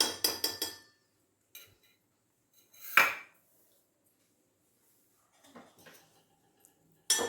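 A spoon clinks and scrapes against a pot while ghee is stirred into cooked semolina, in a few short bursts of metallic knocks separated by quiet pauses.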